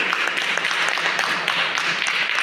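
An audience at an Ivorian diaspora cultural event applauds steadily for a couple of seconds, a dense, even roar of many hands clapping in a hall.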